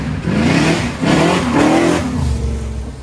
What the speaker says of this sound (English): He's going to be coming down just to show you how loud and ridiculous this car is.